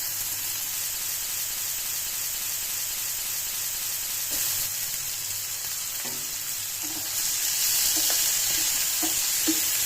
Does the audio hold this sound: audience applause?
no